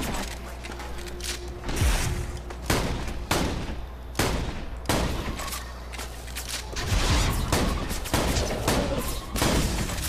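Legendary shotgun fire in Borderlands 2, a series of heavy, booming blasts spaced irregularly a second or two apart, loud and close, with mechanical clatter between shots.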